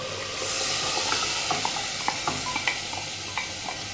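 A steady sizzle and hiss as blended tomatoes and water are added to a hot pot of chicken kabsa, with a few soft stirring clatters and bubbling pops scattered throughout.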